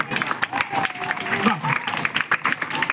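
Clapping from a crowd at a Lions Club program in Kanagal, a rhythmic patter of many hands mixed with a speaking voice over a loudspeaker.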